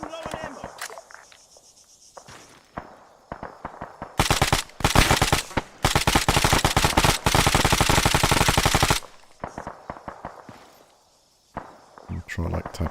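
Long bursts of automatic gunfire in Arma 3 with the Antistasi mod, rapid loud cracks in several sustained volleys, preceded and followed by quieter single shots, footsteps and chirping crickets, with a voice talking at times.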